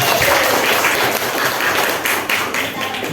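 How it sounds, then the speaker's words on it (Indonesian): A classroom of students clapping together after answering a question on Hindu-Buddhist kingdoms during a lesson, a dense steady patter of many hands filling the whole stretch, close and loud. "Tepuk tangan dulu untuk kita semua."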